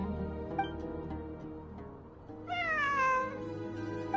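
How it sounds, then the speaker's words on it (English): A cat meows inside the video game Genshin Impact, played on PS4: one short faint call, then a louder drawn-out meow, set over a soft, sustained musical background. "A cat? I think there was one earlier, too."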